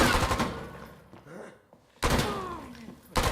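A wall-bang gunshot in a competitive video game match fires as sharp, loud bursts, one at the start and another after a lull, with a third short crack at the end, separated by quieter game sounds.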